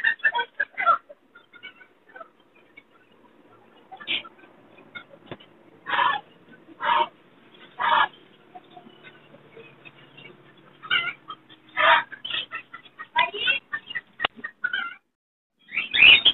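Lovebird pairs and other caged birds at a Sunday bird market in Chichawatni give sharp, scattered squawks and chirps, several bursts coming close together and then spacing out, loud and near against a quiet background.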